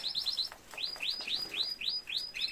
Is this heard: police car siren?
no